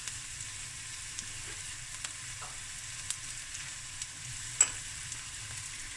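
Spring onion and cumin seeds fry in olive oil, a quiet continuous sizzle with occasional small pops and one sharper crackle near the end, heard close and without voices.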